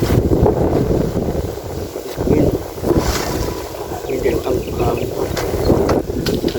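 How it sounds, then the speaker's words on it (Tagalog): Strong wind buffets the microphone outdoors beside a flooded river, a constant loud rushing roar with gusty swells throughout. "Hangin dito."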